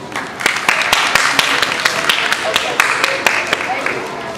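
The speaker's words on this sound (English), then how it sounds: "give yourself an applause" Children at a grief awareness day event in Northeast Ohio clap for themselves, a loose patter of distinct, fairly close hand claps with some talking underneath.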